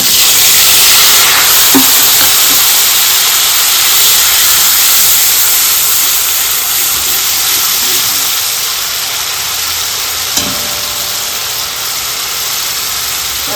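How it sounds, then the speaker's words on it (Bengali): Cumin, dried chili and onion frying in oil left over from frying rupchanda fish, a steady loud broadband sizzle and hiss with a couple of faint knocks, no talk. "জিরে, শুকনো লঙ্কা আর পেঁয়াজ"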